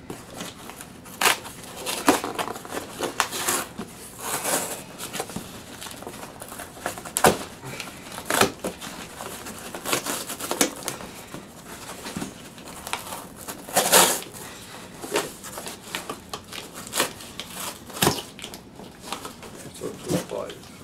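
Packaging for an Epiphone Les Paul Special II guitar is handled and cut, with repeated crinkling, crackling snips and rustles scattered irregularly throughout, close by, alongside occasional talk.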